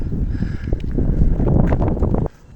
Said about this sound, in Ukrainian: Вітер такий сильний подув.